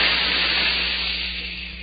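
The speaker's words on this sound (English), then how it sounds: "That jet of fresh, pure moisture stands for the new freshness" A spray jet of moisture used as a sound effect in a cigarette advert: a loud, steady broadband hiss that fades slightly over about two seconds, heard alone.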